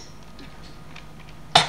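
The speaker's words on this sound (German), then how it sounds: "Alle husten heute. Sogar ich." A single sharp cough bursts out near the end, brief and fairly loud against a low, steady background hum.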